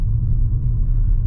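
Low, steady rumble of a car engine and road noise while the car is driven slowly at a constant speed, heard from inside the cabin, continuous and even, no voices.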